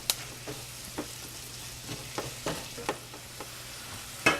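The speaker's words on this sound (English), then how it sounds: "I'm going to go ahead and saute the shallots in that butter. And then add the mushrooms." Shallots and mushrooms sauteing in melted butter in a pan, a soft steady sizzle with several light stirring scrapes and clinks, ending in a louder clatter of a utensil; no one speaks.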